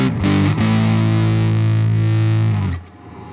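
An electric guitar through a Big Sky Drive overdrive pedal, drive turned up, rings out a thick, saturated chord, sustaining loudly for a few seconds before cutting off.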